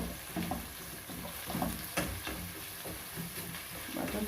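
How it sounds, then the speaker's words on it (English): Beans and cabbage stew being stirred in a pot, a soft, steady scraping and bubbling with a faint sizzle, repeating in irregular strokes close by. "Keep stirring it until it's tender and soft."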